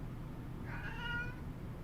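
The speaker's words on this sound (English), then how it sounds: "Yes, cats. Meow meow." A single soft cat meow from a Nintendo Switch indie game trailer, faint and brief over a low background hum.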